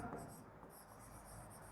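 Chalk or pen strokes sound faintly during a physics lecture on optics, a soft scratchy writing noise under steady room hum with no talk over it.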